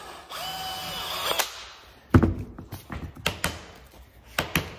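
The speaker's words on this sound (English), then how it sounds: "So then I'm just gonna drill those out like I would wood." A power drill boring out old nails from the handles of a wooden treasure chest: a brief whining spin-up, then a series of sharp, close mechanical bursts and clicks as the bit bites and stops.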